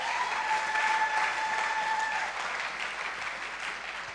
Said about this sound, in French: Applaudissez Jésus-Christ.